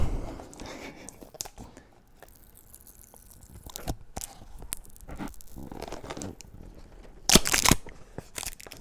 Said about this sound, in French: il y a juste un petit scotch qu'il faut enlever